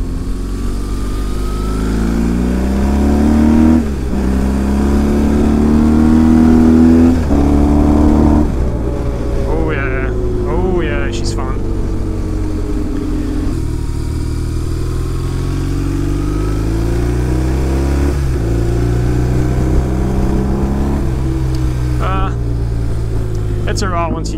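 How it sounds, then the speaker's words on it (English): A motorcycle's two-cylinder boxer engine idles and revs in rising and falling sweeps, loud and close, throughout the stretch. "This is obviously a boxer engine. It's still a 2-cylinder though"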